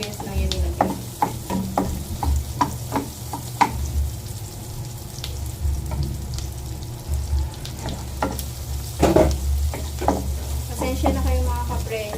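Onion sizzling in a hot pan with pork and broccoli, a steady close frying crackle broken by repeated scraping and clanking stirs of a utensil against the pan, no talking.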